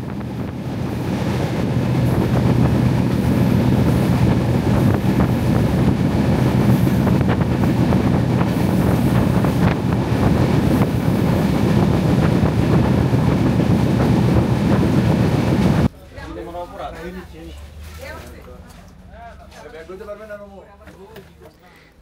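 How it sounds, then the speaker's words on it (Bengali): Panchagarh Express train running on rails on the way to Panchagarh: a loud, steady rumble of wheels and carriage noise with wind buffeting for about sixteen seconds, then a sudden drop to a quieter, rattling cabin sound. "ধীরে ধীরে ট্রেন পৌঁছে গেল পঞ্চগড়ে।"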